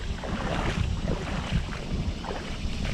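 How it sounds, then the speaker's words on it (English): Steady wind blowing at a city creek, a continuous low rushing roar with some microphone buffeting, even in level throughout, no talk. "Wind's picking up."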